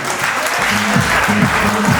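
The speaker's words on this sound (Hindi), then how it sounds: "अपने अपने लिए तालियां बजाएं" Loud, continuous applause from an audience at a company directors' speech in New Delhi, with a low voice audible under the clapping in the latter half.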